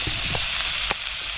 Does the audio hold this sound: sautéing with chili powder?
yes